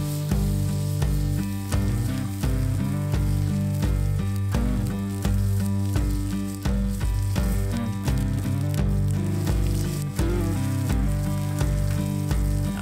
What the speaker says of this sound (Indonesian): so you sear all sides of the meat to get this beautiful crust